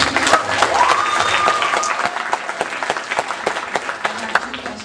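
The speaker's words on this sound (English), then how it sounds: "big round of applause" Convention audience at Anime Vegas 2009 breaking into sustained applause, a dense wash of clapping that stays loud and steady before thinning into scattered claps, with a voice faintly audible over it.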